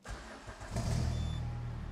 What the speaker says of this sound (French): Au quart de tour donc voilà, la voiture tourne extrêmement bien.